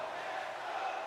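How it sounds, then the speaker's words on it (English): A virtual arena crowd in the NHL 25 hockey game, Maple Leafs against Jets in a mock Stanley Cup Final, gives a steady, dense roar that holds at an even level through the whole moment. "You can feel the energy in this crowd."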